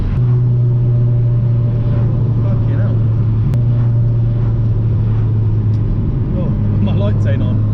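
Steady low engine drone from an older, high-performance Mitsubishi Evolution 7 while driving, heard continuously from inside the car with a faint rumble of road noise throughout.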